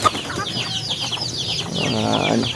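A group of young Karki chickens clucks and chatters continuously, with many short overlapping calls close by and a brief higher squawk near the end.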